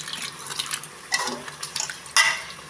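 Water splashes as a bowl that held soybean rezala batter is rinsed, with a few separate sloshing bursts and light clinks of the bowl, close and moderately loud.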